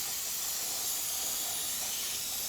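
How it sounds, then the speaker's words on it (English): A steady hiss of water spray rinsing around the oil filter of a 2012–2016 Hyundai Accent during an oil change, continuous and even, close by with no pauses. "we're gonna rinse off all around it"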